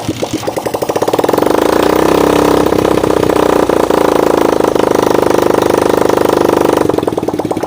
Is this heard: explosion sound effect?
no